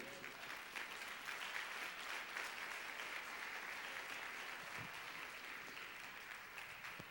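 A church congregation applauds warmly for a prophet named Kevin at a morning service, a dense, steady clapping wash lasting several seconds with no talk over it.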